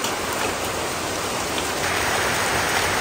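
Rain falls outside in a dense, even downpour, a loud continuous hiss with no voices.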